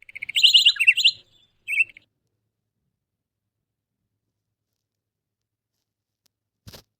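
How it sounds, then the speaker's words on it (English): A small bird chirps a quick, bright burst of tweets, then a short second call, followed by near silence and a faint click at the end. "Bird."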